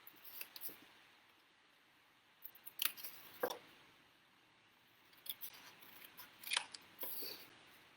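Scissors snip through card stock while a masculine slimline card is being made. Short, quiet crisp cuts come in small clusters with pauses between them, close by and with no talking.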